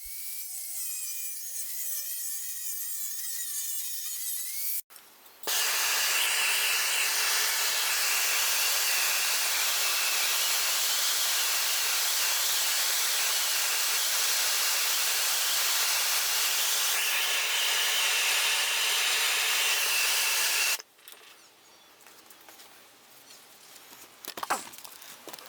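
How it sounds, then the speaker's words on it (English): Small strips of steel being cut off for a knife, a steady, loud, hissing grind that runs for about fifteen seconds between quieter stretches. "Here I'm just cutting a couple little strips off so I can try to see if they harden"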